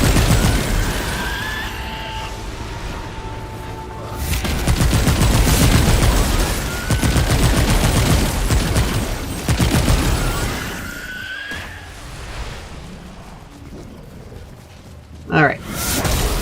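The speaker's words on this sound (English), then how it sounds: "so long as I have a target to hit, I can keep firing indefinitely" Continuous weapon gunfire in Remnant 2: dense, loud bursts of rapid shots that swell and fade over several seconds, set against game sounds and a speaking voice.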